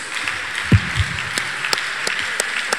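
Church congregation clapping for a healing testimony at a miracle service, a brief scattered burst of applause with a few louder claps early, then thinning taps over a noisy hall background.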